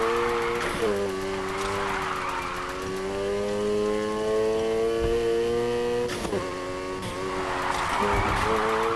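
Sustained engine whine from a car drifting in the racing video game Need for Speed Heat on PC, with steady rising and falling revs and tire squeal bursts, loud and continuous, with speech over it.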